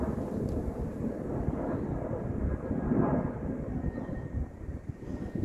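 A plane flies overhead above the clouds on a rural roadside walk, a steady low rumbling drone that swells slightly near the middle and stays fairly distant, with no talking over it.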